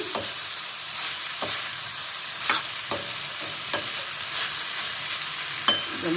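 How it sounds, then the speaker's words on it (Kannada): Bajji chillies sizzle steadily while frying in a pan, with sharp scraping clicks of stirring recurring every second or so, close and clear, no voices. "ಒಂದು 5 ನಿಮಿಷ ಫ್ರೈ ಮಾಡ್ಕೊಂಬಿಟ್ರೆ ಸಾಕಿದೆ"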